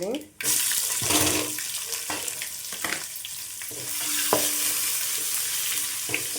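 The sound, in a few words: onion frying in a pan over medium flame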